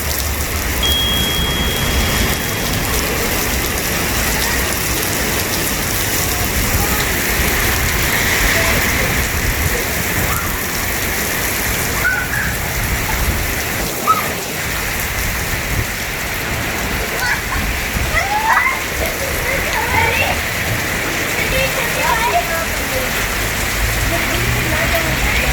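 Heavy rain pours down steadily outdoors near a hotel restaurant in Fizaghat, Swat, a dense, constant hiss with scattered drips and splashes, while voices talk faintly underneath.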